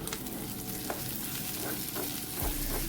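Prawns fry in a pan with a dense, steady sizzle and occasional stirring scrapes and taps, close up and with no talk.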